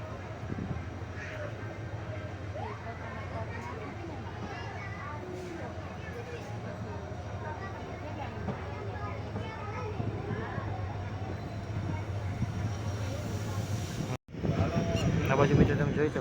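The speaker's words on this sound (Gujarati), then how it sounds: "લીલી ઝંડી બતાવીને હવે આપણી ટ્રેન ઉપડી ગઈ છે" A passenger train pulls away and runs from Lathi toward Sihor, its steady rumble and rattle heard from on board alongside chattering voices and children, growing louder near the end.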